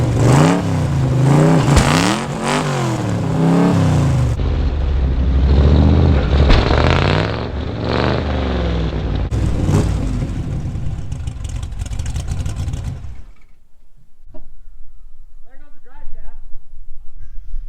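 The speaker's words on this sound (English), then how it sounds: "this is where I decided to do a burnout" A Ford Mustang fresh out of a barn on worn tires revs hard in a botched burnout that snaps the rear U-joint, the loud engine roar rising and falling in surges before cutting off abruptly, followed by faint clinks.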